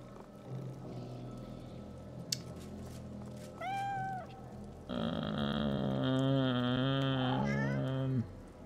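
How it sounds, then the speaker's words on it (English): An undead cat in the video game Divinity: Original Sin 2 gives drawn-out, distorted yowls and growling meows in two bursts, the second long and loud, over a quiet game backdrop. "The undead cat arches its back and hisses aggressively at your presence."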